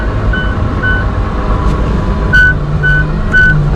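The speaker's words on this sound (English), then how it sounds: "Now it will beep at you for your sidewalk or seatbelt." A CAT 926 wheel loader gives a seatbelt warning beep: short evenly spaced chirps repeat every half second or so over the loud, steady rumble of the idling engine.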